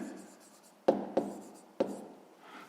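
Handwriting during a fifth-grade math exercise, a pen or pencil scratching briefly on paper with three distinct taps and strokes, close and quiet, no voice.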